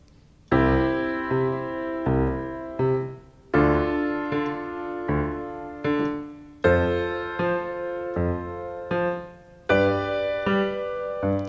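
Piano chords struck in a slow, steady pattern, each ringing out and decaying, with a moving octave line in the bass; no talking.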